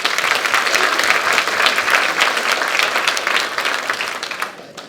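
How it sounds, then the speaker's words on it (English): Sustained round of applause from a crowd at a senior volunteer recognition breakfast, dense steady clapping that fades slightly toward the end. "So please give them a big round of applause."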